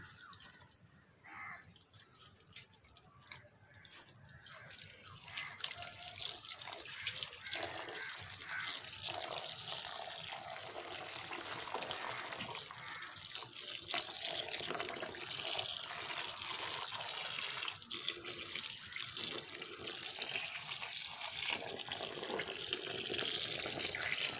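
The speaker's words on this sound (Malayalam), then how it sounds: "ഇനി നമുക്കിതിൽ കുറച്ചും കൂടെ വെള്ളം ചേർക്കാം" Water runs and pours steadily into sodium polyacrylate powder to make fake snow, a continuous trickling splash that starts faint, swells after a few seconds and holds at a steady level with no talk.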